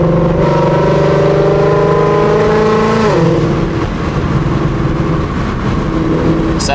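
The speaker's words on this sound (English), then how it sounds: "Like I said, just straight exhaust noise, no drone." A Ford Mustang GT with a straight exhaust runs at wide open throttle, giving a loud, steady, harmonically rich engine roar whose pitch drops about halfway through, with no voices.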